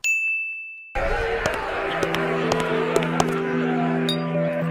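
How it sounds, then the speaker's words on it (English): Wine glasses clinking in the JoJo's Bizarre Adventure anime, a bright ringing ding after a brief muted start, followed by sustained resonant tones with several small taps scattered through, close and clear. "Wine glass holding sound effect helps us the viewer know that wine glasses are being held."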